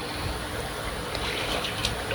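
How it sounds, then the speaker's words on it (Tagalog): Water trickles and splashes steadily as a catfish breeding tank drains, a continuous close wash of liquid with no speech. "Malapit na tayong matapos mag-drain."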